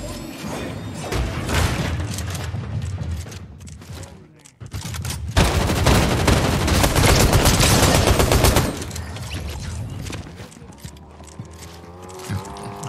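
Rapid automatic gunfire in a Fortnite match, dense bursts of shots clustering in loud sustained volleys with a short pause between them, game sounds throughout and a voice talking underneath.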